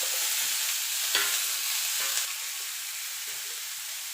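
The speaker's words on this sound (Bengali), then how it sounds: "আদাটাকে দিয়ে একটুখানি নাড়াচাড়া করে নেব।" Ginger, tomatoes and green chillies frying in a pan for paneer butter masala, a loud steady hiss with a few scraping stirs, no talking.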